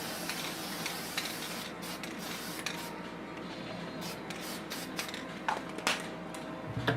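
An aerosol can of Dull Coat sprays a steady, close hiss onto a painted model kit figure, continuous for several seconds with a few faint clicks and taps near the end.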